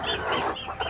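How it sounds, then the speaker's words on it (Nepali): A rooster and hens cluck close by on a farm, a quick burst of short clucks and calls in a brief moment without talk. "भाले र पोथीहरू छ"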